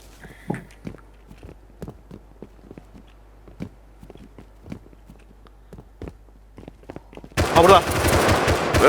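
Rapid gunfire from the survival video game Rust, a long run of sharp, irregular shots and bursts that builds into a loud, dense barrage near the end.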